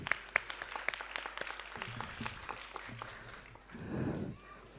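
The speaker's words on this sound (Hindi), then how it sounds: "एक बार इनके लिए तालियां।" Audience applause for a guest at a school's annual function, a spatter of claps under a noisy hall, swelling briefly into a denser burst near the end.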